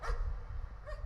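A dog in the horror game Layers of Fear gives a short bark or yip, then a fainter second one, brief and close in a quiet scene.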